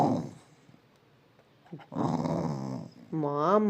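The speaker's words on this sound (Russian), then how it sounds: "Ты не рычи, ты не рычи." A pet dog growls close by in low rumbling stretches, with a drawn-out growl that rises and falls near the end, in a quiet home.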